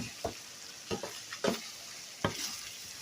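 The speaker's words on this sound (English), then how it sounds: "Going to infuse all that together, mix it up" Ingredients for a home-cooked dinner are stirred together in a hot pan, giving four distinct scraping strokes over a steady background sizzle, close and fairly quiet, with no talking.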